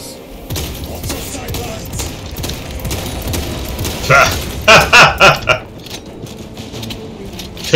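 Stalker Bolter firing in Warhammer 40K Space Marine 2: a quick series of about five heavy, punchy shots near the end, following mechanical clanks and rumbling battle ambience.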